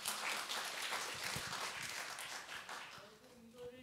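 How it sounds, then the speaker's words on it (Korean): Applause from a church congregation during a Korean service, a fairly faint, steady wash of clapping lasting a few seconds and thinning toward the end as a voice begins underneath. "박수로 여러분 와주세요"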